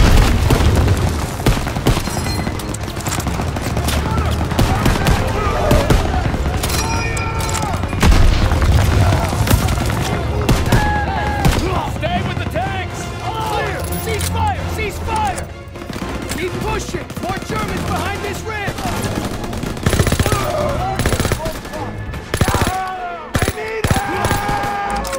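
Call of Duty: WWII battle in Operation Cobra with an MG-42 machine gun nest firing, loud dense bursts and booms running throughout amid constant battlefield noise, with voices shouting over it.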